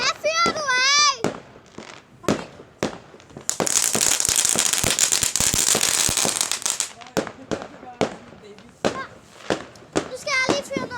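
New Year firecrackers go off in a rapid crackling barrage through the middle, preceded and followed by scattered sharp pops, with a voice talking at the start and end.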